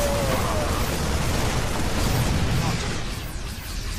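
Rumbling grenade blasts from StarCraft 2: Wings of Liberty gameplay, a dense stretch of loud, continuous explosive noise that fades a little toward the end.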